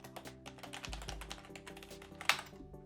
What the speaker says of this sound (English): I'll type in my password now.